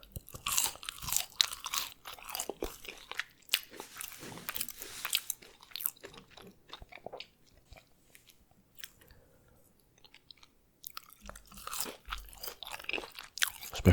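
Crunchy crinkle-cut fries being bitten and chewed up close, a dense run of crisp crunches in bursts with a quieter pause midway before the crunching resumes, no talking.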